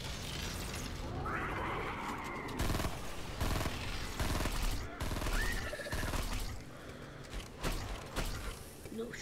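Sniper rifle no-scope shots go off in a shooter video game as sharp, loud bursts scattered irregularly among mechanical clicks and game sounds, with a voice talking over them.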